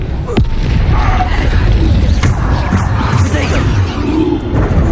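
Bombarda explosion spells cast repeatedly in the video game Hogwarts Legacy, dense booming blasts and whooshes layered over continuous loud game combat noise with no pauses.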